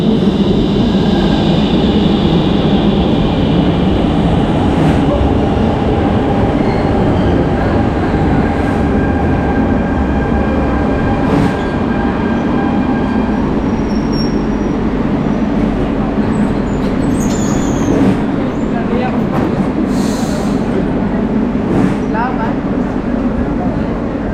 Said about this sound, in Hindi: अब दोबारा मेट्रो ले रहे हैं,